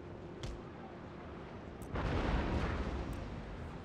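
Naval cannon fire from a ship's broadside in the Empire: Total War American campaign: a sustained rumbling barrage that swells louder and denser about halfway through, with a few sharper bursts earlier on.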